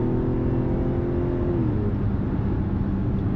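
Steady, loud engine roar from a 2025 Mazda CX-70 SUV with a 340-horsepower straight-six, heard from inside while accelerating, a droning tone that eases off partway through over road noise.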